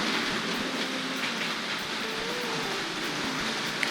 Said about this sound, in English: if we bring the class 37 and the 100-ton tankers to a stop just alongside the signal box there